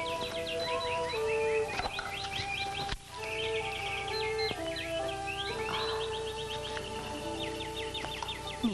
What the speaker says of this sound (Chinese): 你听，这鸟叫得多美！